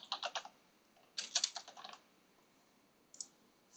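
A computer keyboard is typed in short quick bursts of close, crisp key clicks, with pauses between the clusters, in a quiet room.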